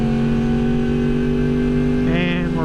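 A Kawasaki ZX10R sport motorcycle accelerating hard in second gear, a loud close engine drone that holds steady and then climbs in pitch near the end.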